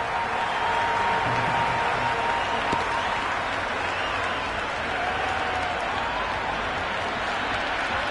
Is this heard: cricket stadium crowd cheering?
yes